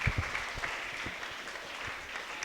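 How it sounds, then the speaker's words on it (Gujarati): A quiz audience of students claps after a correct answer on the Ramayana, a short burst of scattered, moderately loud applause that fades gradually. "તાળીઓ થઈ જાય."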